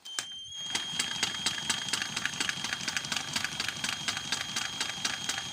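Kohler garden-tractor engine with digital points and condenser spun over slowly by hand below idle speed, giving a steady run of evenly spaced sharp clicking ticks under a constant high whine.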